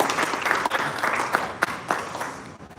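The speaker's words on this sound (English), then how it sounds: "give us another round of applause" A crowd at a hotel dinner event claps steadily for a few seconds, a dense patter of applause with a few sharper claps standing out.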